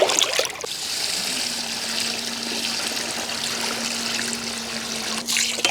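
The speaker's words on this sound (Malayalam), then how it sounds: "അപ്പോൾ നമുക്ക് ഇതുകൂടെ ഒന്ന് കഴുകി" Tap water runs steadily into a vessel in a Kerala home kitchen while something is washed for chicken biryani, a continuous close trickle and splash with no talk.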